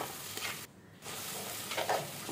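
Chopped tomatoes sauté and get stirred in a pan, a close steady sizzle with brushing scrapes that drops out briefly near the start, then resumes with a few louder stirring strokes; no talking.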